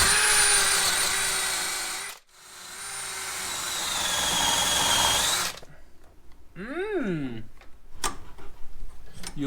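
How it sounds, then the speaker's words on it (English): A big orbital wire brush scours underseal, wax oil and rust off an old Citroen Dyane, a loud, close, harsh whirring grind that cuts off briefly and restarts, then winds down into spinning-down whines and clatter. "my friend the big orbital wire brush"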